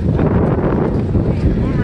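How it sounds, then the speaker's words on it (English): Strong wind buffeting a microphone outdoors at the Six Flags Great Adventure amusement park, a loud, continuous rumbling roar filling the whole clip, with a voice faintly mixed in. "Oh, it's very windy."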